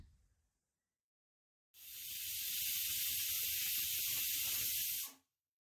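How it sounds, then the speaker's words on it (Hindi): Pressure cooker on a gas stove, cooking vegetables with a little water, releases a steady, strong hiss of steam lasting about three seconds before cutting off abruptly. "एक विसल होने तक कुकर को गैस पर रखना है"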